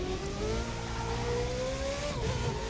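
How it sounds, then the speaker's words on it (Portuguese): A Mercedes-Benz 300 SLR engine in The Crew 2 drones steadily from inside the cabin, muffled and low, its pitch rising slightly as it accelerates, with no talking. "O som muda quando estamos no interior do carro."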